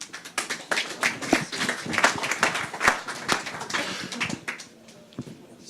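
An audience applauds a presenter at a pitch session: a loose, uneven burst of many hand claps lasting several seconds, moderately near, then thinning out and fading at the end.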